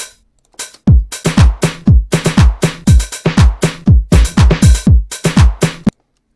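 Hi-hat beat programmed in beat maker software, a fast loud run of sharp electronic hits in an irregular pattern, after a brief quiet start and stopping abruptly near the end.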